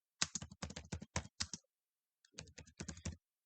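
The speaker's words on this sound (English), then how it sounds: "type here the OneDrive login" Bursts of keystrokes on a computer keyboard as a OneDrive login is typed, about a dozen quick clicks, a short pause, then another run of taps, close and clear with no talking.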